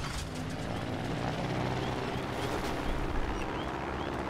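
A plane in the Trailmakers video game drones with a steady, loud engine roar and whir that holds unbroken for several seconds, with no one talking over it.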